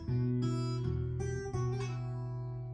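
Acoustic-style guitar plays a fingerpicked arrangement, a low bass note ringing under a plucked melody with a hammer-on, a few sustained notes struck in slow succession, close and clear with no talking.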